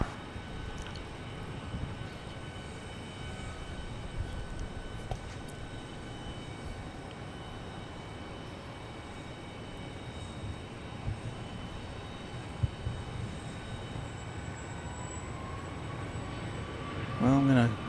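A Southwest Boeing 737-700 takes off from runway 13 right at Dallas Love Field as a broad, steady engine roar heard from a distance, with a brief voice near the end.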